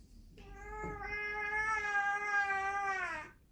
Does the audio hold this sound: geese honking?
no